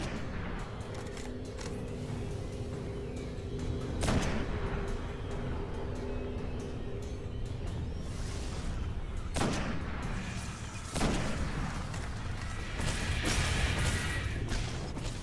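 Gunfire in the video game Destiny during the Crota's End raid, with sharp shots at irregular intervals over a steady rumbling game background and occasional voices underneath.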